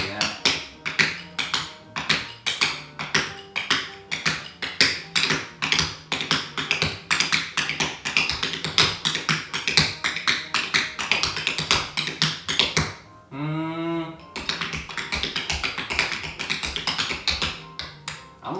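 Tap dance shoes with newly modified taps stamp and strike a floor in rapid, dense rhythmic patterns, loud and close, with a short pause near the end before the tapping resumes.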